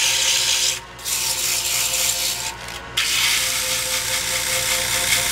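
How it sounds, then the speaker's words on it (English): Steady rasping strokes of 80-grit sandpaper rubbing on a wooden bracelet turned from tobacco sticks, close up, with two brief pauses between stretches of continuous scraping. "I don't spend too much time sanding on the inside."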